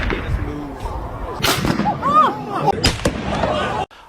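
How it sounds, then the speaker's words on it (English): Handgun gunshots, 9mm or .32 caliber, recorded on a Rode microphone in an outdoor test. A few sharp cracks sound amid background noise and talking, and the last one cuts off abruptly. "For this audio test, I shot 9mm and .32 caliber"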